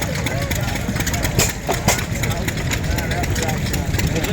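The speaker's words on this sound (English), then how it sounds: "Ladies running, starting up hers." A vintage stationary engine at a tractor show starts up and settles into steady running, a loud continuous chugging throb with a couple of brief sharper bursts early on.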